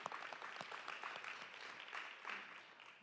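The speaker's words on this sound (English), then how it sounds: "I want you to give yourself applause for caring for the pets that you do." A humane society audience at a Thanksgiving-themed charity livestream applauds with faint, dense, steady clapping that sounds somewhat distant throughout.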